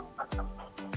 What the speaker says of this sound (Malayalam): കോഴിയുടെ സൗണ്ട് ഇവിടെ കേൾക്കാം.